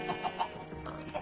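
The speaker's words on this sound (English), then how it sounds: "the chickens are up there laying eggs" Video-game chickens clucking as they lay eggs on an upper ledge of a farm build, several short clucks in an uneven rhythm, moderately close over a faint steady background hum.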